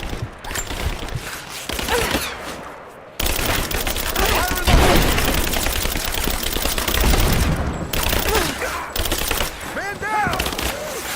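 Rapid automatic gunfire from a firefight in the video game Rise of the Tomb Raider, dense sustained bursts of shots with booming impacts, loud and continuous under shouted combat voices.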